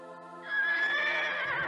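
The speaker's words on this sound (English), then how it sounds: "It looks like a magic horse." A horse gives a single loud, close whinny, its tone rising into a shrill, quavering neigh that trails off, heard alone with no talk.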